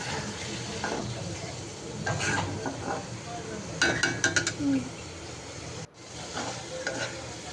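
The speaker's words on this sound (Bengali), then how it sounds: "এদিকে আমি মশলা কষিয়ে নিয়ে এখন টমেটো দিয়ে দিলাম আর মটরশুঁটিও দিব" Tomato and peas fry in a spice paste for a hilsa curry, a moderate sizzle under repeated stirring, with scraping and metal utensil clinks against the pot.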